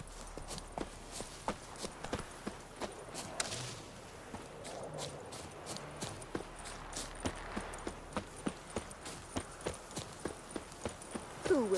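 Roach the horse galloping in The Witcher 3, a regular series of crisp hoof strikes repeating steadily over quiet in-game ambience, growing slightly louder near the end.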